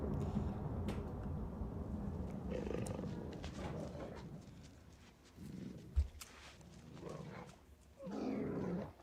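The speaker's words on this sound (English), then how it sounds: "Listen to the Viking one. Ooh, some good thunder." Thunder from a Viking-themed ambience sound pad rolls in long, deep rumbles with roar-like swells, rising and falling over several seconds before a final heavy surge, with no talking.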